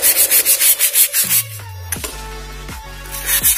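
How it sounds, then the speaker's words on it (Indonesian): A BMW E90 engine part is rubbed with sandpaper wetted with petrol, giving close, rhythmic scraping strokes about twice a second, then a pause with a few knocks and a droning hum. "Yang ini belum diamplas, jadi bisa tambahkan bensin untuk proses pengamplasan agar lebih sempurna."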